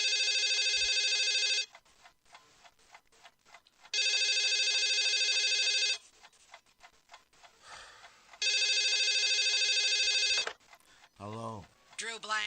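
Telephone ringing in the live-action adventure game Toonstruck: three long, loud electronic ring bursts with pauses between, followed by faint handset sounds and a brief voice at the end.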